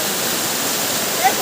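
Ashokjhar waterfall roars with strong, fast-flowing water, a dense, steady rush that fills the whole short moment.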